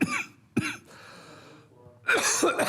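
A person coughs from dust lodged in the throat, giving a couple of sharp close coughs, then a pause with light throat noise before a harder burst of coughing at the end.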